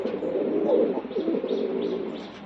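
Nearby pigeons coo steadily in soft, rumbling waves, a continuous low purring call without any talking.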